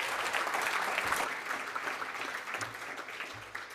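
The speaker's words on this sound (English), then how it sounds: "Let's give Jack another round of applause" Sustained audience applause fills a conference room at a small business conference, dense and steady, fading slightly toward the end with no talk over it.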